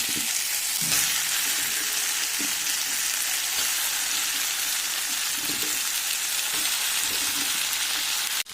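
Meat and potatoes hitting a pan of well-cooked spiced masala with tomato, giving a steady, loud, close sizzle that runs continuously, with faint stirring knocks now and then.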